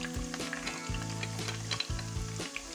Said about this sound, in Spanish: en este aceite donde hemos frito nuestras costillas, que la tenemos apartada, ponemos la cebolla